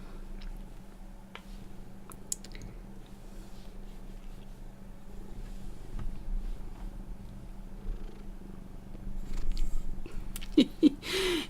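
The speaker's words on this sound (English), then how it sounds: "My cat." A cat purrs softly and steadily at close range in a quiet cabin in the woods, a low continuous rumble with a few faint ticks and rustles near the end.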